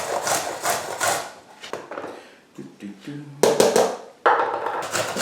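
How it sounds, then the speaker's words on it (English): Vegetables including sweet potato grated by hand, a close rhythmic rasping in repeated bursts, with someone talking over part of it. "I'm just going to start grating the veg"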